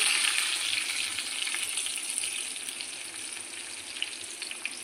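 Mustard seeds, fenugreek, cumin, garlic and onions fry in oil for tomato pappu. The sizzle is constant, bright and hissing, close by and loud, and it eases off slightly over time with no talk.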